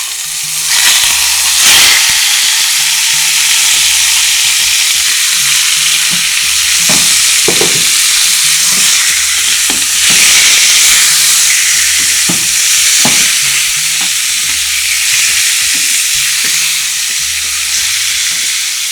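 Chicken pieces frying in hot oil in a pot for a chicken and mushroom stir fry, a steady loud sizzle and hiss running throughout with repeated scraping stirs and clinks, no talking.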